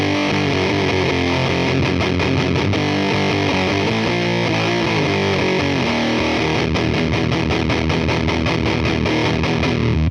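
An electric guitar is played through an HP-1 Harmonic Percolator clone fuzz pedal into a Marshall amp, with thick, saturated distorted chords and notes sounding loud and continuous without any talk.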